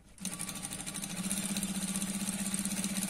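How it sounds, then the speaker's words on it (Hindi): A sewing machine stitches a Punjabi dress, starting after a brief pause and then running in a fast, steady mechanical whir with rapid rhythmic needle clatter, close and without talk. "हम मशीन पे जाते हैं और सिलाई लगाते हैं"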